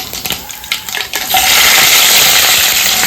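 Garlic dropped into hot oil in a bowl on a gas stove for a sambar tempering, after mustard seeds and cumin. A few scattered clinks and stirs give way to a loud, steady sizzle that continues to the end.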